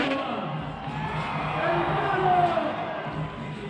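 Crowd at a freestyle motocross finals event in Mexico cheering during a rider's run, a broad, distant roar rising and falling with the jumps, mixed with low rumble and other venue noise.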